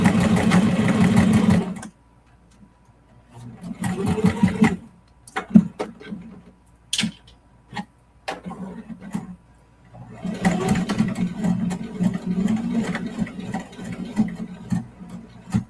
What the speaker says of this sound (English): we just going to take it to the sewing machine and sew straight across on both ends